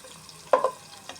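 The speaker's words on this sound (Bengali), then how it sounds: "মশলাটা ভাজা পর্যন্ত আমি নাড়াচাড়া করব।" Spices and onion for khichuri stirred in hot oil, giving one short burst of frying sizzle and scraping near the middle and a fainter stir near the end, over a quiet kitchen background.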